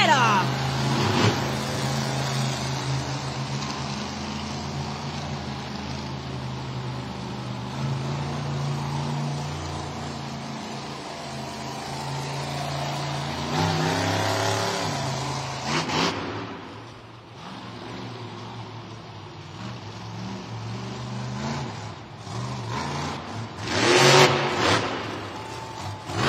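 The Vendetta monster truck's engine roars and revs hard through a sky wheelie at a Monster Jam stadium event in Cleveland, a sustained loud drone that surges and drops, with crowd noise and an announcer talking throughout.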